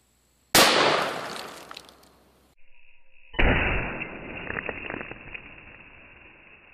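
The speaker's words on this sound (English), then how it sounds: "Today, I'll shoot the same loading at 2 1-gallon blocks of ice." .500 Smith and Wesson Magnum revolver shot into two 1-gallon ice blocks: a sharp, loud report with a long ringing tail, then after a brief gap a second loud burst with crackling and scattering debris fading out.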